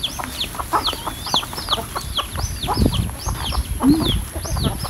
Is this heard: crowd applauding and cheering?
no